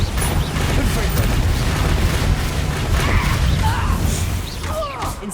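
Confringo blasting-spell explosions in the Hogwarts Legacy video game on PC: a dense, continuous roar of booming blasts and crackling debris that stays loud throughout.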